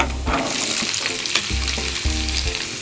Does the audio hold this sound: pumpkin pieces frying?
yes